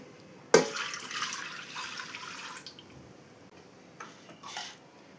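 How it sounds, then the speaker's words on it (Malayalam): Water splashes into a pressure cooker in a short pour lasting about two seconds, followed by a quieter second splash after a pause. "2 ഗ്ലാസ് വെള്ളം ഒഴിച്ച് കൊടുക്കണം"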